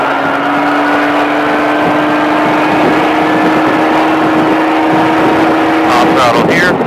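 A Baja off-road vehicle at a driving course holds a loud, sustained engine drone that rises in pitch under throttle, with a shift in tone near the end and a voice coaching over it.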